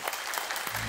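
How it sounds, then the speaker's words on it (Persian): Studio audience applauding on an Afghan television game show; brisk, dense clapping from many people fills the moment, fairly loud and close, with a low tone entering near the end. "تشویق میکنیم"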